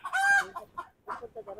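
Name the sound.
chickens clucking on a poultry farm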